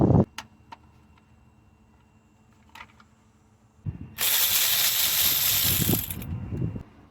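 Ratchet loosening 10mm bolts on the timing belt cover of a 2.4-litre Honda engine, with a few faint clicks early, then a loud continuous burst of rapid ratcheting lasting about two seconds, close up.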